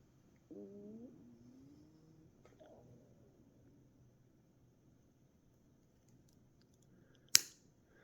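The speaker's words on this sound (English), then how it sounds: "now let's give the Snap-on plier a shot here and see what it does." Snap-on flush cut pliers make a single sharp, crisp snap as they cut, standing out close and loud after several seconds of near quiet.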